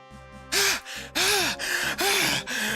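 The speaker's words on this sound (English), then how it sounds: "he's actually, like, gasping for air there" A toad character in Final Fantasy VI on PS1 gasps for air in four loud, breathy, wheezing gasps that rise and fall, each separated by a short pause, over a quiet low game hum.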